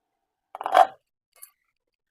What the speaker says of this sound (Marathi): आता याच्यावरती मी एक दोन मिनटं झाकण ठेवते आणि कांदा आपला छान शिजवून घेणार आहे